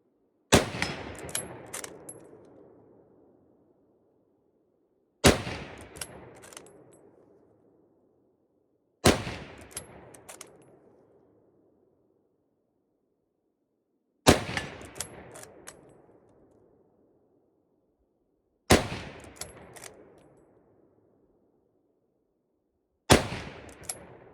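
A Lee-Enfield SMLE rifle fires six loud, sharp shots spaced roughly four to five seconds apart, each crack ringing out into a long fading echo, with quiet gaps between rounds.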